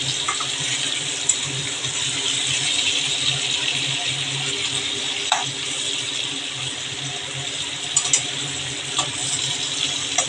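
Water flows steadily into a cooking pan while oil hilsa fish is being made, a constant soft hiss and trickle with a few small clinks, alone without talk.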